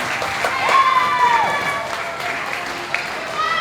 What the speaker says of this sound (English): Let's give our talented people a round of applause